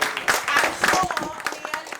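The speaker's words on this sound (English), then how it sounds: "I think they all deserve a round of applause" An audience at the Peepul Mela arts and wellbeing festival breaks into brief applause, a loose burst of clapping from a crowd with a voice speaking over it.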